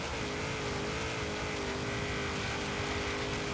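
A car engine in the Forza Horizon 3 racing game revs hard and steady at high speed on an offroad speedrun, with a sustained droning roar and faint rising pitch, heard alone.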